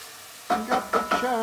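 Garlic and onion in a hot pan for turkey chili, four short bursts of sizzling and stirring in quick succession after a quiet start, close and fairly loud.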